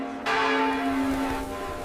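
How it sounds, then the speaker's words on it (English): A great church bell tolls once, a heavy single strike with a long ringing hum that slowly decays, alone and fairly near. "The heavy, slow tolling of the great bells signals the loss to the faithful everywhere."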